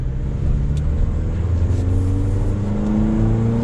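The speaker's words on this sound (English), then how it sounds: "we'll have to see with an acceleration here what this is like" A 2022 Toyota Tacoma Access Cab SR pickup with a V6 engine accelerates, its steady engine drone climbing gradually in pitch as it pulls, heard from inside the cab with no one talking.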